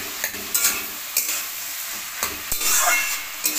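Potato and pumpkin chunks fry in a pan, a constant close sizzle broken by repeated spatula scrapes and stirring clatter at uneven intervals.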